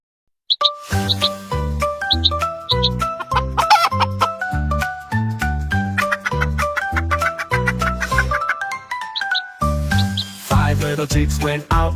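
Chicken clucks repeat among cheerful music with light jingles, fairly loud and steady throughout, no speech.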